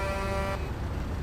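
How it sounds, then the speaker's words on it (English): A car horn blares with a steady sustained tone at a bus for about half a second, then cuts off, leaving loud road and traffic rumble. "I don't know why they honk at you."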